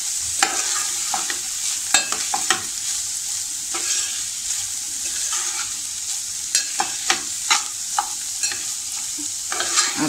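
A spatula stirs a dry French bean bhaji with grated fresh coconut in a pan, giving repeated scraping clatters over a steady low sizzle of frying.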